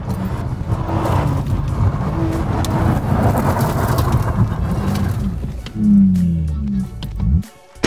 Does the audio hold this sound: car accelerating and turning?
yes